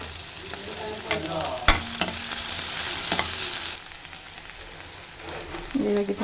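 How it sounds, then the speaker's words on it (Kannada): Mushrooms frying in a pan give a steady broadband sizzle with a few sharp clinks of stirring, moderately loud and close, with no talking. "ಫ್ರೈ ಆಗಿದೆ ಮಶ್ರೂಮ್"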